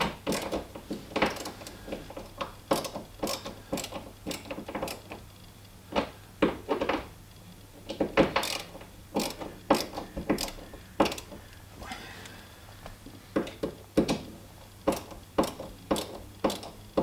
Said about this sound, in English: So those two screws are done up.